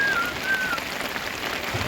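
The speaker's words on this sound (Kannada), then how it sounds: "ಸಖತ್ ಮಳೆ ಬರ್ತಾ ಇದೆ, ಸೊ ಚೆನ್ನಾಗಿದೆ ಒಂಥರ ರೈಡ್." Heavy rain falls during a ride in Kashmir, making a dense, steady hiss of drops on surfaces with a faint whistle at the start.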